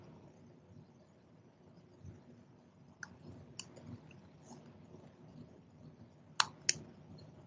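Several sharp, quiet computer mouse clicks, scattered singly and then in a quick pair near the end, over a faint background hush, with no talking.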